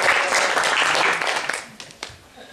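An audience at a European conference session applauds a committee vice president, heavy clapping at first that thins out and fades to a few scattered claps near the end.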